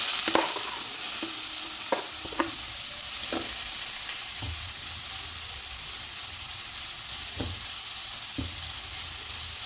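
Grated carrot fries in a pan with a soft steady sizzle while a spoon stirs and scrapes it, making several sharp knocks at irregular moments, close and fairly quiet, with no talking.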